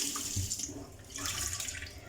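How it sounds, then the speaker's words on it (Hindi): Tap water runs into a kitchen sink as something is rinsed clean, a short soft splashing stream heard close and fairly quiet. "अब इसको सिंपल पानी से जो है वो हम वॉश कर लेंगे अच्छे से"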